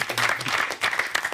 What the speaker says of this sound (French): Vous pouvez quand même applaudir.